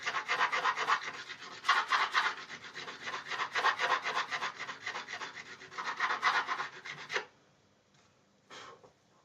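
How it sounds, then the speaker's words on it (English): Steady rasping of sandpaper rubbed back and forth over a wooden Telecaster guitar neck, close and continuous, stopping abruptly near the end with a brief faint scrape after. "Just finish cleaning up that sanding I did earlier on."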